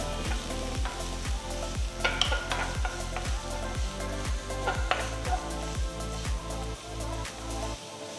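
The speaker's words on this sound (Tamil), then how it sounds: "ஒரு மீடியம் சைஸ் வெங்காயம் பொடியாக நறுக்கினது போட்டு 2 பச்சை மிளகாய் பொடியாக நறுக்கினது சேர்த்து வதக்குங்க" Steady sizzling of chopped onions and green chillies frying in hot oil, close and continuous, with a few scraping stirs and clinks of a utensil against the pan.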